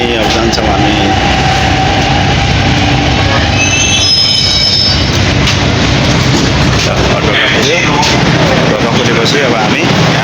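Train wheels squeal loudly and steadily on the rails during a ride in Darjeeling, with rumbling carriage noise throughout and a sharper screech partway through.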